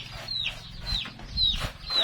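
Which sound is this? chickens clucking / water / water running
chickens clucking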